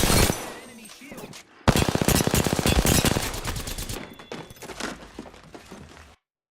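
Rapid automatic gunfire from an Apex Legends match, loud dense bursts of shots with cracking impacts that stop briefly, resume, then cut off.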